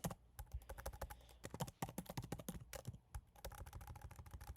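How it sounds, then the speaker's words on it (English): Rapid typing on a computer keyboard indoors, a dense run of close, crisp key clicks with brief pauses, fairly quiet and without talk. "Excuse my typing."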